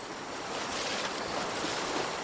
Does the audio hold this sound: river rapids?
yes